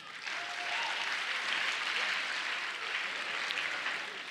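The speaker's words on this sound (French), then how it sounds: "On applaudit pour ça." Audience applause at a televised quiz show finale, a sustained even wash of clapping from a crowd, fairly soft and steady, with no talk over it.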